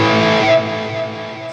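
An electric guitar plays a sustained, distorted chord through a NUX MG-30 effects unit, with rich harmonics that ring loudly and then slowly fade.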